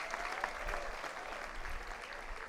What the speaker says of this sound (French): Ils méritent un applaudissement.